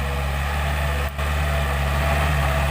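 A Yanmar EF514T 51-horsepower diesel tractor engine idles steadily nearby, a loud low chugging drone that barely changes, with a brief dip partway through.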